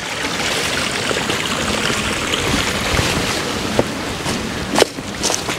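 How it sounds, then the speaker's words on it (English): Overfull pond water spilling over its bank and running out across newly tiled fields, a steady broadband wash of flowing water with a few louder splashes near the end, no talking. "The pond is so full, It's actually overrunning right here"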